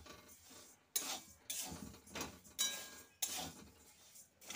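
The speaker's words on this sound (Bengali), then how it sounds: "এবার আমি চালটাও একটু ভেজে নেব।" Dry rice being stirred and toasted in a pot for Bengali vegetable khichuri, with bursts of scraping and rattling against the metal every second or so and a quieter rustle between strokes. No one speaks.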